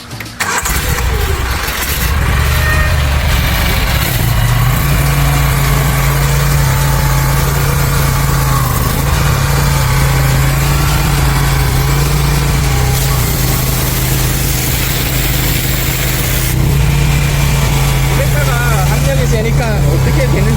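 An engine-driven 500 bar high-pressure washer starts up and then runs loud and steady for the rest of the stretch, with a constant low hum and rumble up close.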